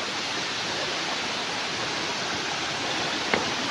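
A river stream on the trail to the Tancak Tulis waterfall rushes in a steady, even broadband wash at a fair distance, with one brief knock near the end.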